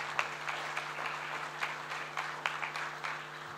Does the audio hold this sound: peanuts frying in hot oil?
no